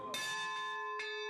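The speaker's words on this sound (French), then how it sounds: "Depuis le rachat, les cloches recommencent à sonner dans le village." Village church bells ring out with long, sustained tones, two clear strikes spaced about a second apart, each blooming over a lingering hum of overtones at moderate distance.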